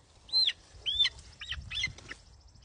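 A hen lets out a few short, squawky calls in quick succession, close and fairly loud, then falls quiet.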